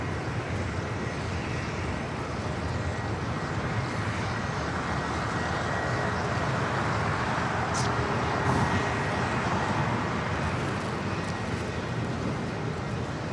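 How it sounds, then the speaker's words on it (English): Turkish Airlines Airbus A350-900 taking off at Los Angeles airport, a loud continuous broadband jet roar sustained throughout, with no talking. "This is Turkish Airlines Flight 180 taking off to Istanbul on the A350-900."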